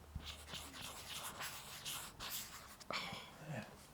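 A stylus scratches and scribbles across a reMarkable 2 e-paper tablet up close, a soft, papery rubbing in short strokes, with faint background murmur.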